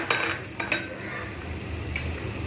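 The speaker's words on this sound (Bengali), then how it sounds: "এবার আমি এতে দেব ধনে জিরে গুঁড়ো হোমমেড রোস্টেড" Homemade roasted coriander-cumin powder goes into a yam (ol) curry frying in oil, with a few sharp spoon-on-pan clinks early on over a steady close sizzle, and no speech.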